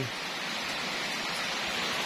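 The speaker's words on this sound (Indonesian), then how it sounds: "hujan deras hujan deras lur" Heavy rain pours steadily during Eid al-Fitr festivities in Ponorogo, a dense, even hiss of falling water that stays loud and constant throughout with no talk over it.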